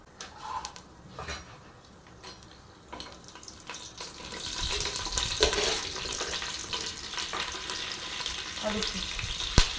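Whole spices crackle and splutter in hot oil for chicken biryani, a steady close sizzle that grows louder and busier halfway through, with occasional sharper pops and faint kitchen clatter.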